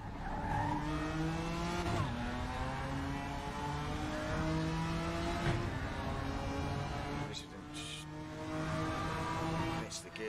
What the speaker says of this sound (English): Gear shift that time.